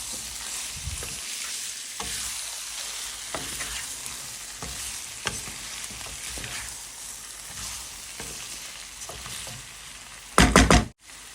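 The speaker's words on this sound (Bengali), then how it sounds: "এখন আমি মাছটা আর বেগুনটা একসাথে আমি কষিয়ে নেবো" Mola fish, potatoes and frozen eggplant stir-fry in a pan on a gas stove, with continuous close sizzling and spatula scrapes, ending in a brief loud clatter.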